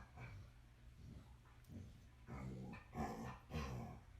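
A pet dog growls and whimpers softly in the background of a quiet room, low rumbling bursts that grow a little stronger toward the end, faint and distant.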